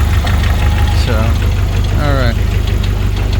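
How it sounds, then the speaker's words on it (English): A 1992 Jeep YJ's 2.5 engine idling after running for a while, a steady low close rumble that continues unbroken while a person speaks over it. "The engine's been running for about 30 minutes."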